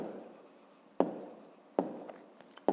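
Pen or pencil writing a square's perimeter formula on paper, three quick sharp strokes about a second apart with faint scratching between, close and quiet with no talking.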